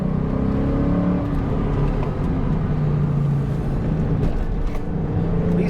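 A 2001 Ford Mustang Bullitt accelerates out of corners with a steady, loud engine drone from inside the car, its pitch shifting slightly as it pulls through the gears.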